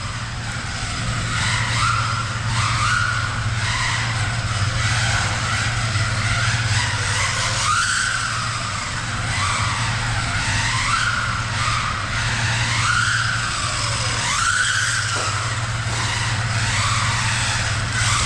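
An SG1608 Pro RC car drifts with a steady, loud electric motor whine and rising and falling tire scrubbing that runs the whole time, with no talking.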